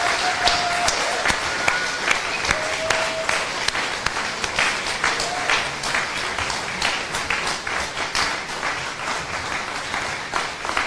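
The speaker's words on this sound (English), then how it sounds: "with thunderous applause and vigelegele, please join me in welcoming our guest" Thunderous audience applause welcoming Professor Lumumba to a speech, with many close sharp claps in a dense, continuous roar and a few high ululation-like tones rising briefly above it early on.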